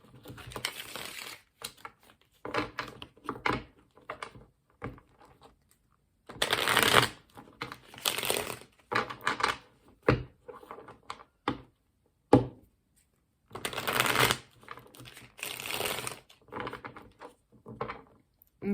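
A deck of tarot cards is shuffled by hand in repeated riffling bursts with brief pauses, close and crisp, with no voice over it.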